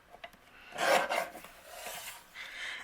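A paper tag for a handmade card is trimmed, about a quarter inch cut from the bottom: a close, dry rasping scrape that swells for half a second, then lighter rubbing strokes continue, with no talking.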